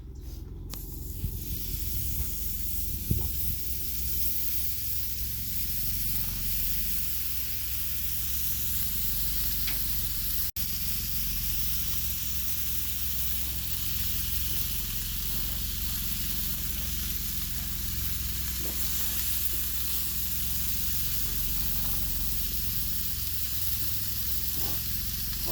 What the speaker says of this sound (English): cook us up some bacon and eggs this morning.